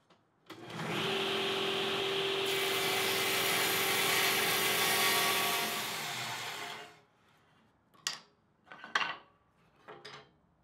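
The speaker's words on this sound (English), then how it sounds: "I'll cut it out of this piece of walnut from an old table leaf." A saw cuts through a walnut board taken from an old table leaf, a loud continuous rasping whine lasting about six seconds, then quieter scattered knocks and handling sounds of the wood.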